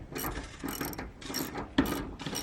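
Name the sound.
tightening nuts on the middle bolts of solar panels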